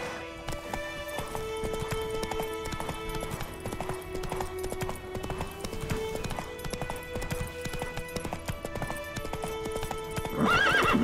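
Roach, the horse in The Witcher 3, gallops with rapid rhythmic hoofbeats over a constant game score, ending in a loud neigh near the close.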